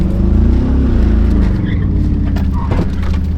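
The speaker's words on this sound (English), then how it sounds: "That means we are feeling the V8 that is under the hood." A 1994 Chevrolet Camaro Z28's V8 rumbles steadily on a road test, a loud, continuous low drone heard from close inside the car with no break.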